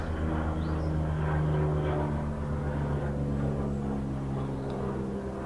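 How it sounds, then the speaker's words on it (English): A helicopter drones overhead with a steady low rotor hum and engine whine, loud and continuous, fading slightly toward the end. "helicopter going over."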